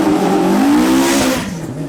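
Track-oriented cars lapping a circuit, among them a Chevette HSR, a Quattro and an Alfa with a Millington engine, with one loud engine revving hard and sweeping past close by, tyres briefly squealing as it fades.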